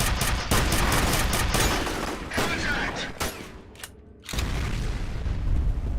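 Video game combat with heavy bursts of gunfire and a booming explosion, loud crackling blasts in rapid succession, a brief near-silent gap, then renewed noisy action.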